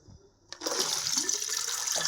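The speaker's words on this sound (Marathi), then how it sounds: "याला धुण्याची गरज नव्हती पण तरी मी धुवून घेत आहे" Peeled cowpea pods being rinsed in water in a home kitchen, a steady splashing, running-water wash that starts abruptly and carries on close and fairly loud to the end.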